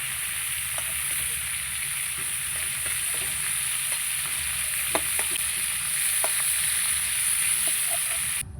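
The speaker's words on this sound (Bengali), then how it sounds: "ফুলকপিটা ভাজা হলে আমি ফুলকপি মহারানিটা তৈরি করে নেব" Cauliflower pieces frying in hot oil in a home kitchen, giving a steady, close sizzle with a few soft clinks of stirring throughout and no voices.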